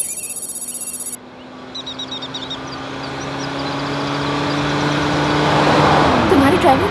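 Car driven on a road in a film scene, a rising engine and road hum building steadily after a brief electronic ringtone-like tone at the start, with a faint tonal whine running underneath.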